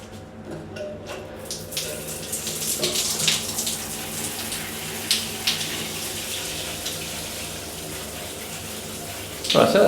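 Water sprays steadily from a handheld shower head in a hotel bathroom, a continuous hiss that builds after a few seconds and holds close and loud.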